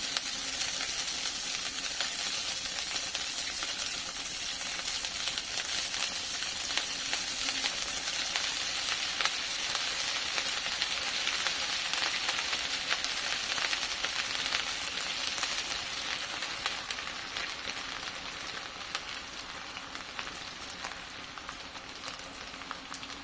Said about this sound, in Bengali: খুব বেশি লাল করা যাবে না, এগুলো হালকা করে ভেজে তুলে নিতে হবে।